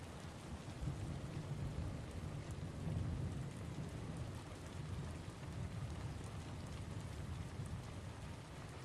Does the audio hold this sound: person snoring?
no